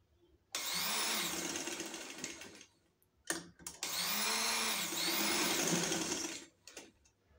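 Sewing machine running straight stitches on a fabric sleeve, two long bursts of rapid whirring motor clatter separated by a short pause with a few clicks, close and loud, no voices.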